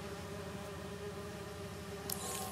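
A steady, low buzzing swarm of bees hums continuously in Marvel's Spider-Man 2, soft and even throughout with no voices.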